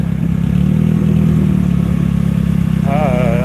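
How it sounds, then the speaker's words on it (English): An unidentified engine runs steadily and loudly at close range with a low, droning rumble, while a voice talks over it and a wavering higher tone rises near the end. "I don't know what engine that is."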